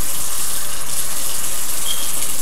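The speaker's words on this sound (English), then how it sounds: "And we're going to put water in." Water gushes steadily and loudly into a pot, a close, continuous rushing pour with no pauses.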